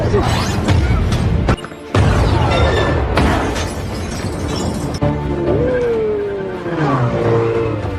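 A car speeding away after a thrown bomb in a Hobbs & Shaw action film scene, loud and continuous with crashing, shattering impacts and booming blasts, a voice briefly over the din.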